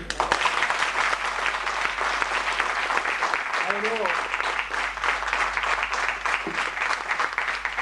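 A room full of people claps in sustained, dense applause at a formal gathering about Indian shipping, steady and loud for the whole stretch with a brief voice-like tone in the middle.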